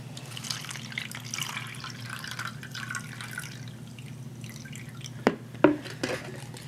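Baking soda solution poured into red cabbage juice makes soft liquid trickling and dripping sounds, with a few sharper splashes near the end, heard alone against a steady low background hum.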